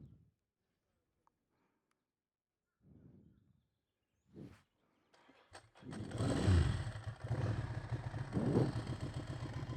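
Ducati Monster S2R 1000 motorcycle engine while riding, a loud rumbling roar that starts up after several seconds of near silence and brief thumps, then holds steady with revving surges to the end.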